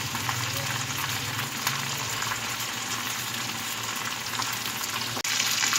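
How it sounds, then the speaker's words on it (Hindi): Fish frying in a pan after being flipped to its other side, a steady, close sizzle of hot oil holding at even loudness throughout with no one speaking. "मछली को मैंने पलट दिया है, इसे दूसरी तरह से फ्राई कर लेंगे अच्छी तरह से।"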